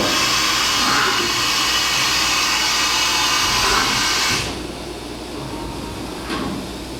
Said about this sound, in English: That was one tool change. Simulating a second.